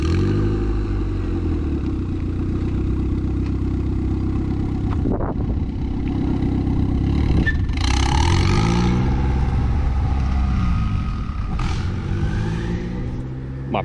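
A Mazda RX-7 FB with rust mixed into its gas idles roughly and revs unevenly as it pulls away down a street, engine loud and close with clattering, while people talk over it.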